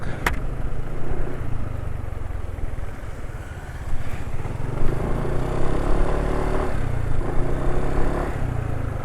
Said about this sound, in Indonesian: Suara mesin sekarang ya sudah asak-asak.